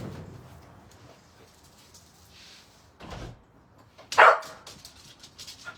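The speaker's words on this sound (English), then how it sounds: "There's the dog." A dog barks once, a single loud sharp bark after a quiet stretch of faint room noise and soft handling sounds, followed by light rustling.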